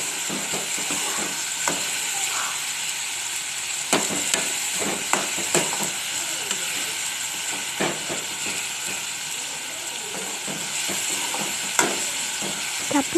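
Steady sizzle of garlic paste frying in a pan for a fish curry with peas and tomato, with soft scrapes and taps of stirring scattered through the hiss.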